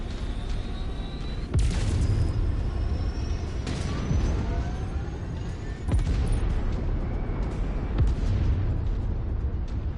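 Explosions as targets are destroyed in MechWarrior 5: Mercenaries on PS5. Several loud, deep booms land about two seconds apart over rumbling battle noise and whining weapon sweeps.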